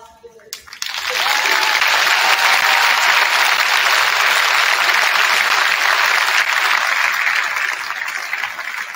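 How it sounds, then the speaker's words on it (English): Loud, sustained applause from an audience at an eighth-grade recognition ceremony honoring a Golden Apple Award recipient, swelling after a second and holding steady with faint cheering mixed in. "let's give him the loudest round of applause he deserves."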